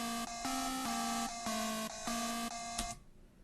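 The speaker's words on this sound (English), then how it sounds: "the bass notes sound like this" Synth bass notes play in a beat, a series of sustained tonal notes in a steady rhythmic pattern, each cut off with short gaps, loud and alone before fading out at the end.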